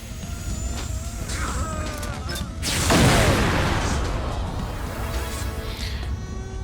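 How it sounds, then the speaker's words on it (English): A loud crashing burst erupts midway, with a whooshing boom and scattered debris-like clatter from explosions in the Xbox game Sudeki, over a busy, noisy game soundtrack. "So many explosions."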